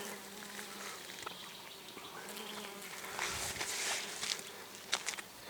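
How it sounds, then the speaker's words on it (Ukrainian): Bees buzzing around flowering common milkweed in a steppe setting, a steady close insect hum that swells louder in bursts midway, with no talking. "Ваточник зацвітає і скільки тут бджіл."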